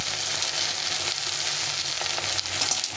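Quartered potatoes and taro stems fry in oil in a pan with a steady, loud, close sizzle that holds through the whole stretch, with faint stirring clicks near the end.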